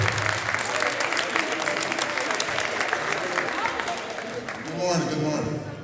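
An alumni reunion audience in a school hall gives loud, sustained applause for a speaker, with a voice emerging over the clapping near the end.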